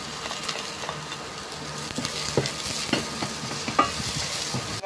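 Onions dropped into a hot pan for chicken curry, sizzling continuously while a utensil stirs and scrapes with irregular knocks, close up and moderately loud, no voices.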